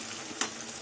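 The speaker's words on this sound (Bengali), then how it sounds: "টমেটো একদম ভাজা হয়ে গেছে" A short burst of soft frying sizzle from a pan, with one brief scraping stir in the middle, quiet and close.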